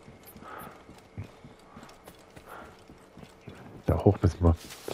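Horse hooves clip-clop in a steady rhythm in the Assassin's Creed Origins video game, moderately loud, while people talk over the gameplay.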